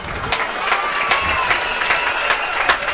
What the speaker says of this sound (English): Please give a round of applause for homecoming court member Abigail Lechuga.